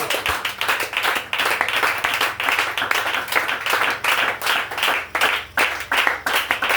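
A church congregation claps in steady rhythmic unison, loud and sustained throughout, with no talk over it.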